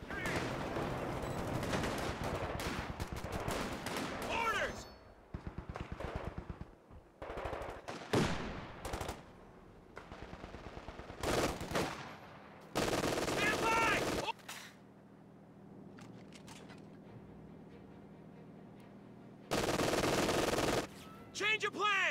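Gunfire from the video game Company of Heroes 2 comes as bursts of machine-gun and rifle fire between short pauses, loud and sharp, mixed with in-game voices shouting.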